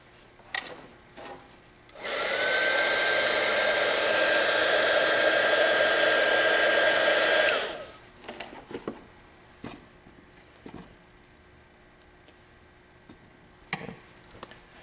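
A heat gun shrinks heat-shrink tubing over a soldered connector on a removable link holder, blowing with a loud, steady roar for about six seconds, framed by scattered sharp clicks and handling knocks before and after.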